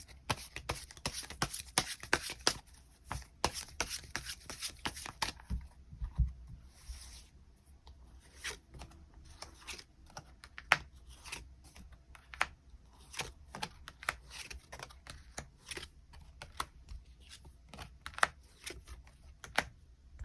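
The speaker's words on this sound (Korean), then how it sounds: "그 부분 추가 카드 뽑아보도록 하겠습니다" Tarot cards being shuffled and drawn, a busy run of dry riffling and flicking for the first few seconds, then scattered sharp card snaps and taps spread through the rest, close and fairly quiet.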